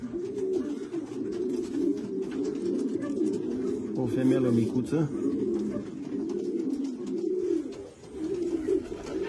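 Racing pigeons coo in low, rolling bursts close by, including a prize-winning hen, while someone talks over the birds.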